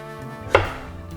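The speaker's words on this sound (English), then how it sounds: "We're just gonna cut thin slices." A knife slices through a potato on a cutting board in one short, crisp chop, close and clear against a quiet room.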